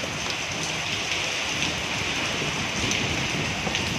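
Heavy rain from Typhoon Aghon pours steadily in Masbate, Philippines, a dense unbroken hiss of drops striking surfaces nearby.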